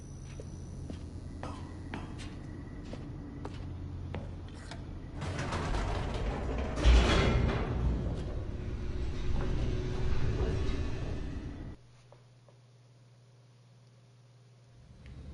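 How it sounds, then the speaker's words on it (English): Elevator descending in the video game The Stanley Parable, a long mechanical rumble with creaks and clanks that swells and then cuts out abruptly into a low hum, with no talking. "The elevator raced downward"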